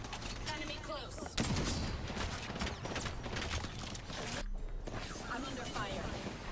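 Rapid gunfire bursts from the Apex Legends battle royale game, dense and continuous through most of the stretch with a short lull, while a player talks over the shooting.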